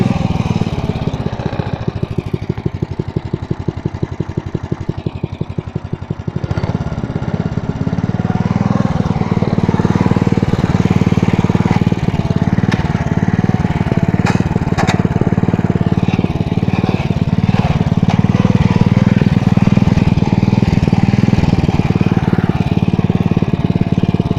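A lawn mower engine runs steadily and loudly from start to finish with a constant drone and a slight bump near the seventh second, close by with no talk.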